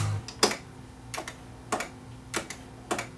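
Pause button on a Sanyo RD S20 Dolby B cassette deck being pressed, a series of five sharp plastic clicks spaced about half a second apart, close and fairly loud over a low steady hum.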